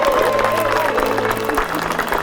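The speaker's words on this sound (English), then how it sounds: "keep the applause going for Mr. and Mrs. John and Charlotte Gard" Wedding guests applaud in a rainforest garden just after the couple is pronounced husband and wife, a steady wash of clapping and light cheering under a celebrant's voice.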